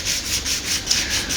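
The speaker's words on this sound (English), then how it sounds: "It doesn't need anything too coarse anymore, so I've done most of that." Light hand sanding of a rebuilt guitar headstock with fine 800-grit sandpaper before oiling, heard as close, soft rhythmic rubbing strokes, about five back-and-forth passes.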